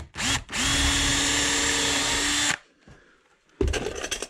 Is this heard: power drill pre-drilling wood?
yes